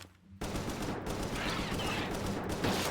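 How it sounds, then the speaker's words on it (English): Rapid gunfire from Palworld, a dense burst of shots rattling on continuously for a few seconds, loud and close with no talking. "Good thing the sounds of gunshot don't seem to wake up the other creature."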